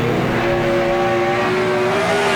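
360 sprint cars race through a heat at Park Jefferson Speedway, their engines a loud, continuous high-pitched roar with layered tones shifting as the cars run close together.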